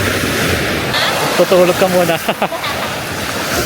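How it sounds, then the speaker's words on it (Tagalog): Strong waves washing on a lake in Japan, a steady broadband wash of surf with wind noise, with a voice talking briefly partway through. "Lakas ang alon eh."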